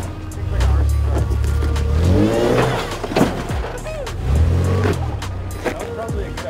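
An off-road vehicle on a Death Valley trail revs and churns over rough ground up close, engine surging in two loud bursts with clatters and knocks, while people talk over it.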